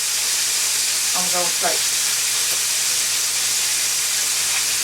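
Country fried steak frying in a pan, a loud, steady sizzle that runs unbroken throughout, with a brief spoken remark near the start.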